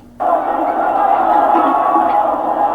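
Basketball arena crowd at a 1980s Celtics–Lakers game, a dense, steady roar of many voices that swells in abruptly and holds loud and continuous throughout.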